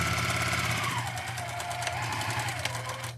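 Domestic sewing machine stitching a quilt seam, a steady close mechanical whir with fast rhythmic needle ticking running continuously, motor pitch dipping slightly midway, no voices.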